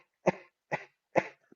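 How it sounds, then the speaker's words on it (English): Three short, sharp cough-like exclamations made to jolt the diaphragm, evenly spaced and close, with silence between each burst. "And when you make this cough, you'll feel your diaphragm jumps."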